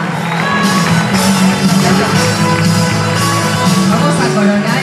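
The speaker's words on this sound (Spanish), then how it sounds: "El aplauso entonces para nuestra segunda princesa" A crowd at a local queen pageant applauds and cheers for a newly named princess: loud, continuous clapping mixed with whoops and shouts, carried over sustained music tones throughout.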